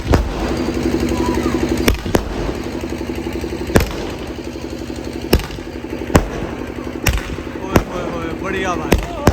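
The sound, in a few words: sky shot fireworks exploding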